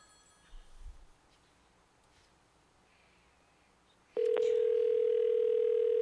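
Partway through a telephone call, a steady electronic ringback tone starts abruptly after a short quiet stretch and continues unbroken to the end, loud and close.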